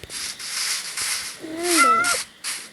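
A cat in the game Minecraft meows a few times close up, with short rising and falling cries over a soft background hiss.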